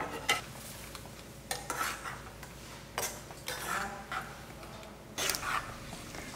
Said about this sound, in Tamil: முந்திரி பருப்பு வந்து நல்ல பொன்னிறமாக ஆற அளவுக்கு நல்லா வறுத்துக்குங்க